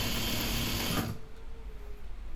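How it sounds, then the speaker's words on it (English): A sewing machine stitches layers along a skirt waistband in a steady, loud mechanical whir that stops about a second in, leaving a quiet room. "And I just sew those layers all along the waistband"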